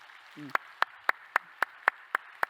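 A church congregation claps in unison, about eight sharp, evenly spaced claps in a quiet room, with a brief voice just before the first clap.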